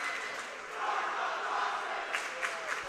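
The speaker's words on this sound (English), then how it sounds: "the Gang Green coming out with every end of game cheer you can think of" Basketball student section fans known as the Gang Green chanting and cheering in a gym after a Braves boys basketball win, a steady, loud crowd roar with rhythmic shouted bursts near the end.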